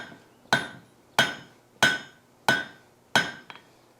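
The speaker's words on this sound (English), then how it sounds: "what I'm going to do here is strike it over this corner" A hammer strikes hot steel over the corner of an anvil five times at a steady, unhurried pace, each blow a sharp, bright ringing clang that decays quickly, with a faint extra tap after the last.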